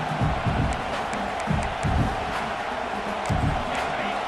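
Stadium crowd noise in the college football video game NCAA 26 on PS5, a steady loud roar with rhythmic surges of cheering and chanting throughout.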